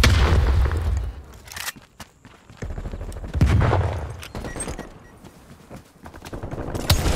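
Black Ops Cold War gameplay in a free-for-all match brings a grenade blast among bursts of gunfire. Sharp booms and rattling shots come in clusters with quiet gaps between them, loud and close, with no talk.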